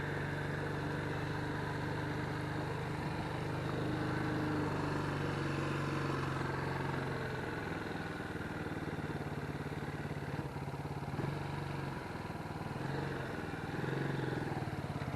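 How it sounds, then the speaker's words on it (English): A Lifan KP Mini 150 motorcycle engine idles close by with a steady, slightly lumpy mechanical chug, swelling in brief revs as the carburetor idle screw is adjusted. "If you hear me stop and revving it up and don't quite know what I'm doing, that's just me messing with my idle screw."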